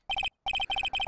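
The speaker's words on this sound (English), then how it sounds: "Hey Nick, your cell phone's ringing!" A cell phone ringtone from the Phoenix Wright: Trials & Tribulations video game rings in loud, clear bursts of three rapid electronic chirps. The bursts repeat after a short pause, with no other sound.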